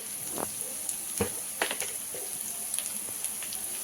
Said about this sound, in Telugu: దీనిలో హాఫ్ మినిట్ ఫ్రై చేసేసుకున్నాం